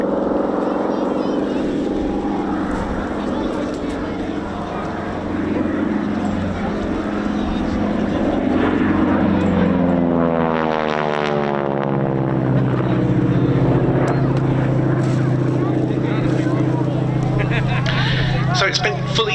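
A vintage warbird's piston engines drone loudly at an East Kirkby airshow, a sweeping rising-and-falling pitch as the aircraft passes, under a continuous commentator's voice.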